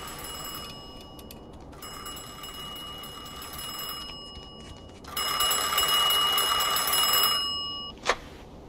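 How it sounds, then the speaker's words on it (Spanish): Telephone ringing in the video game Mafia II, a bright electric bell tone sounding in two or three bursts separated by brief pauses, fairly loud and close, with no talking. "Vale, están llamando al teléfono."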